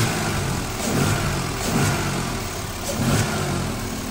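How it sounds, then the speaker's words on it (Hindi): A 2018 Datsun GO car engine running steadily, a continuous broadband rumble with slight rises and falls in level, close and fairly loud with no talk. "तो भाई ये है इस इंजन का साउंड"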